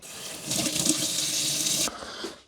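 Water running steadily over red kidney beans being drained and rinsed in a kitchen, a continuous splashing rush that stops abruptly near the end, with no talk.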